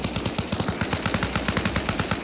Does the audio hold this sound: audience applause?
no